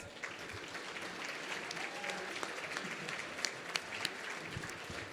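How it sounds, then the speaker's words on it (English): Continuous applause from a seated audience at an economic summit, honoring a secondary school band, with scattered sharper claps over a steady, moderately distant wash of hands. "give the Laura Secord Secondary School Band a big round of applause"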